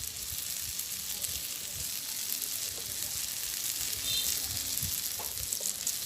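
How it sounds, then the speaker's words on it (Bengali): Onion frying in hot oil in a pan in a Bangladeshi village kitchen, a steady broadband sizzle that runs continuously and fairly close throughout, with a few faint clinks of stirring. "এখন পেঁয়াজটা দিয়ে দেবো দিয়ে দিচ্ছি তেল"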